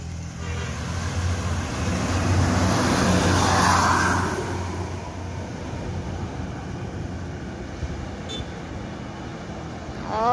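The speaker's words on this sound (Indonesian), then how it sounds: "Itu ada bus" An intercity bus rolls past on a road near the Ombilin bridge bend, its engine rumble and tyre noise rising to a broad peak as it draws near, then fading into a steadier background hum.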